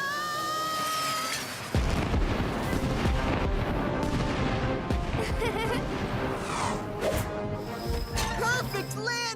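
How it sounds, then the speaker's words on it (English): Fireworks bursting from a fireworks truck in a Paw Patrol cartoon rescue, a sharp loud onset followed by rapid crackling bangs and whooshes over music and sound effects. "But next time, maybe don't add the fireworks, Danny."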